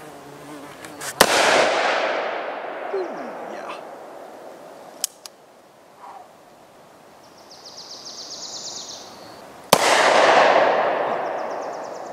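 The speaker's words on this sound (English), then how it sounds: "Let's see how well they shoot." Two loud gunshots from a Bond Arms Rowdy derringer, one near the start and one late in the clip, each a sharp crack with a long echoing tail outdoors, separated by quieter handling sounds.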